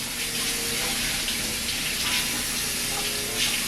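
Water runs steadily from a tap into a sink while someone rinses their mouth, a constant close hiss and splash throughout.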